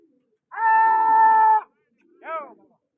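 A pigeon call: a sustained harmonic tone lasting about a second, then a short rising-falling note after a brief pause, fairly clear and close.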